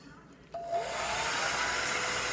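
A hair dryer clicks on and blows a steady, close whoosh to heat a Jamberry nail wrap, its airflow holding level after a short rise.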